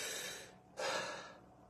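Deep breathing exercise: a long, close airy inhale, a short pause, then a strong rushing exhale that slowly trails off, with no talking.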